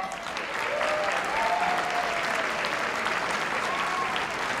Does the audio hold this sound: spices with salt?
no